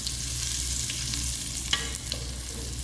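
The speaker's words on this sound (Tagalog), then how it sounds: "Lutuin muna natin ang konting sibuyas at ang bawang para umamoy at nag-amoy ginisa." Garlic and onion sautéing in a hot pan, a steady close sizzle running throughout with a few faint stirring scrapes and clicks.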